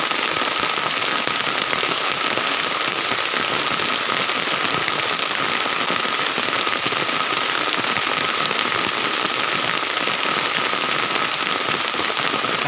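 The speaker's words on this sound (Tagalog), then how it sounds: "So nabutan tayo ng ulan guys" Rain pours near Burayok Mini Falls, a small waterfall in Gattaran, Cagayan, a dense, constant crackling patter on leaves and surfaces that holds steady and loud throughout.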